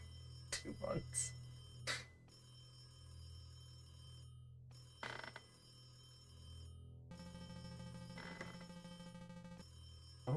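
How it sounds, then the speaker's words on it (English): A telephone rings repeatedly inside a horror video game, its bursts of ringing recurring at a moderate level over a low constant drone with faint background noise. "Phone is ringing."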